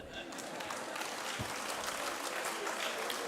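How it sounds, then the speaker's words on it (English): Audience applause for a speaker at a medical summit, a steady wash of clapping from a crowd that is faint and distant, with no pauses through the whole stretch. "Ladies and gentlemen, put your hands together for Harish Anna."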